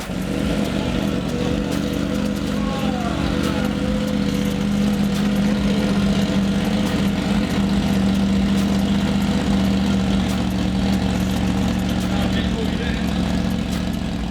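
A Triumph Tiger 900 Rally Pro motorcycle running with no exhaust fitted, holding a steady, loud, rough idle throughout, close up, with a faint voice partly buried under it.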